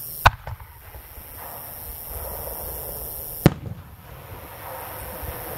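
A 5-inch cylinder firework shell boosted with half an ounce of hot flash powder bursts in two sharp, loud reports about three seconds apart, each followed by a faint crackling tail against open-air background noise.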